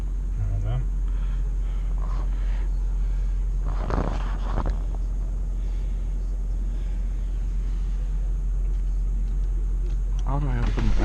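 A low, steady road and engine rumble fills the inside of a moving car while a person speaks over it now and then.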